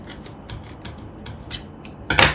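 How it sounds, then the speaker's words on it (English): Scissors snip through fabric while a bralette is cut out, a run of short, crisp cuts spaced irregularly and close by, ending in a louder rasping stroke. "And now I'm going to cut this part off."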